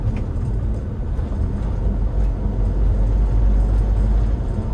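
A 2013 Toyota Hiace Commuter minibus drones along in low gear, with a steady, rumbling engine and road noise from inside the cabin and no throttle surges.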